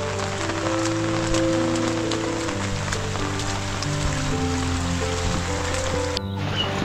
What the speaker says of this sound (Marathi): खूप पाऊस पडत आहे।